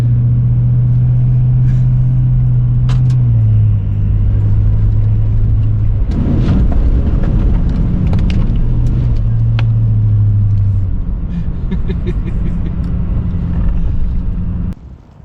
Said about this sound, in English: Here we're driving on a wet, greasy, muddy kind of road.